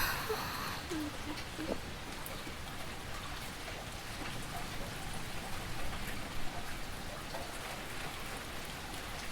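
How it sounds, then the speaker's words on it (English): Steady rain pattering on surfaces at a soft, even level, with scattered drips and a few light knocks standing out against the continuous hiss. "The rain continued for some time,"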